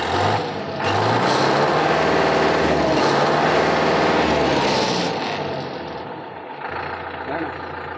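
60HP tractor diesel engine running after start, a loud, steady close rumble with a heavy low-end throb that eases off somewhat toward the end.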